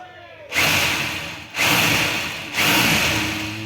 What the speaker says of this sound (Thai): ที่ได้ยินเสียงนะคือเสียงสว่าน นะ ครับ